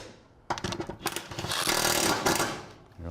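Rapid rattling of a socket tool driving a bolt on a vehicle drivetrain, a dense mechanical burst starting abruptly and running steadily for a few seconds up close.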